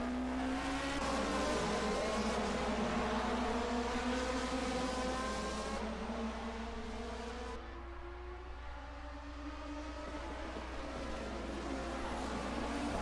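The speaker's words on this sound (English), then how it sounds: "Look at this train of cars." A tight pack of 1980 DRM Division 2 race cars roars past together at the ADAC-Westfalen-Pokal-Rennen, several engines droning and shifting pitch at once in a continuous, loud, layered howl.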